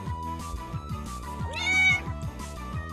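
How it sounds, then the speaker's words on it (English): Bunny, a Siamese cat, lets out a single drawn-out meow, close and clear, over quiet background music. "This is Bunny, my Siamese cat."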